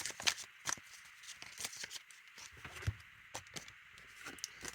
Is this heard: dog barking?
no